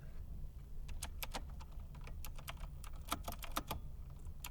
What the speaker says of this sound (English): Gotta type on my keyboard and it's trapped under my monitors